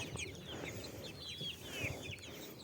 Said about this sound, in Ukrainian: І щось він там розказує, щось він там щебече. Такий гоноровий півень.